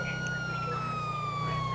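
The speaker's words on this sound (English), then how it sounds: "You turn your sirens off too." A police car siren in a video game wails steadily with a falling tone over a low engine hum, close and continuous.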